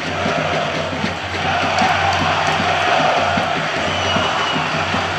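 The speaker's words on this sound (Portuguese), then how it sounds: "Aí é o protesto da torcida." Football supporters protest inside a stadium, a large crowd roaring and chanting in a steady, dense wash of voices that holds loud and unbroken from start to finish.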